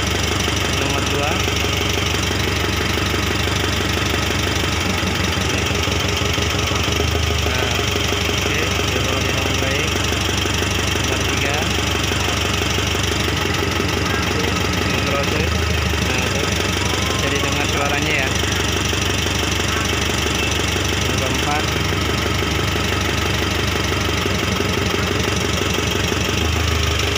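Mitsubishi Triton 2.5 GLS with the intercooled 4D56 diesel running during an injector test, a steady loud close clattering diesel idle throughout, with voices talking over it at times.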